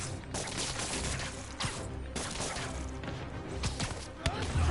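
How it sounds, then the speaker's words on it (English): Enemy gunfire in Spider-Man PS4 crackles as dense, continuous bursts of shots over a busy game soundscape, loud and close with sharp transient peaks throughout. "someone's trying to shoot me"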